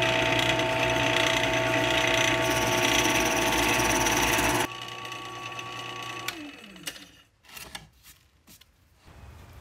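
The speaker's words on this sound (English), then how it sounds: "I flip on the machine and drill the hole" A loud, steady mechanical whir of a drill press running, then it cuts off abruptly, leaving scattered clicks and clatter as it winds down.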